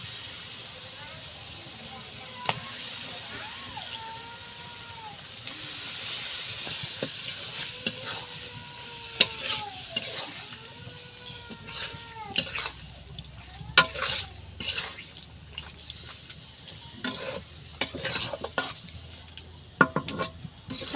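Beef and mutton sizzle and hiss in a pot of cooked-down spices in a village kitchen, with utensil scrapes and clatters as the meat is stirred, while a person talks and birds chirp in the background.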